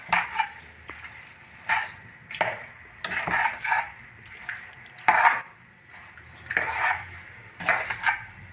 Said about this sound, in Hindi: उस वक्त तक आपने चमची हिलाते रहना जब तक सारा मसाला इसमें मिक्स नहीं हो जाता।